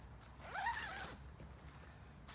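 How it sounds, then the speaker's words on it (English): A quick zip on an MSR Hubba tent in rain, one short rising rasp up close against faint background patter. "oops, zipper."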